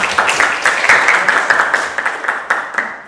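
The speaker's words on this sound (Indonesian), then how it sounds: "Beri tepuk tangan yang meriah untuk kalian." Lively applause from a group of students at a school leadership training session, celebrating newly chosen student council members; dense, steady clapping that fills the room and holds for about three seconds.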